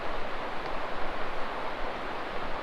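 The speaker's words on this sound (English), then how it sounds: "it sounds like water falling down there" Water pours down a waterfall below a river trail, a steady broadband rushing roar heard at a moderate distance, constant and unbroken.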